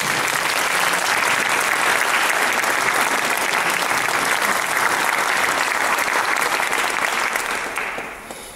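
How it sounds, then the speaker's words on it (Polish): A live concert audience claps loudly and densely at an acoustic show in Łaziska Górne, the applause holding steady for several seconds before it quickly fades away at the end. "Wielkie brawo!"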